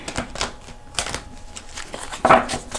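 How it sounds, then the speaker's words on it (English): Thick holographic tarot cards are shuffled by hand, a run of close, crisp riffling flicks and soft taps with one louder slap near the end, heard alone without talk. "These cards are a little thick, so you gotta excuse my shuffling here"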